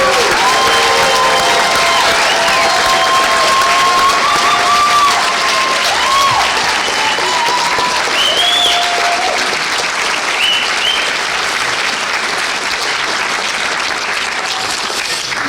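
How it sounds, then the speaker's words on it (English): Sustained applause from a graduation audience at a Bellingham Technical College RN pinning ceremony, loud and steady for the full stretch, with cheers and whistles rising above the clapping. "one more round of applause for all the graduates"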